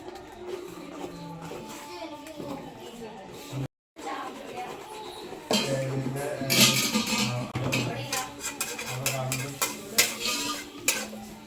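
Egg and cabbage are stir-fried in a pan, with clattering spatula scrapes and knocks over a low frying hiss that grows busier partway through, as a person talks over the cooking.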